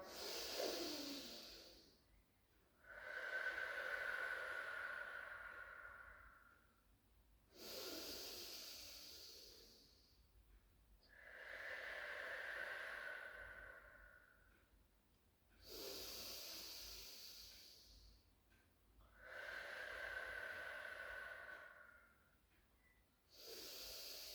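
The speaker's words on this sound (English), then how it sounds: "Taking 5 lovely deep breaths in and out." Slow, deep breaths drawn in and let out during a Pilates rehab child's pose stretch, close and steady with about six even in-out cycles and no talking.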